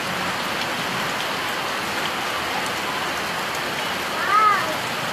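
Steady rainfall during a rainy season, a dense even patter of drops on surfaces continuing unbroken, with a faint short chirp near the end.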